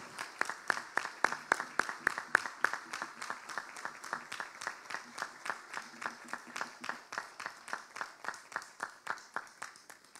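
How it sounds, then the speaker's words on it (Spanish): Audience at a municipal DIF annual report event claps in slow, steady, evenly spaced beats, a sparse rhythmic applause heard at moderate distance with no talk over it. "les brindamos un fuerte aplauso"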